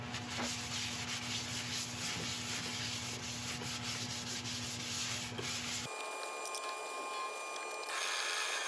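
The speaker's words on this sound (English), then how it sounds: "now for a wax finish, just using a Hampshire sheen" Hampshire Sheen wax finish rubbed onto a wood bowl spinning on a lathe, a steady close friction hiss over the motor hum that shifts to a lighter, thinner rubbing for the last few seconds.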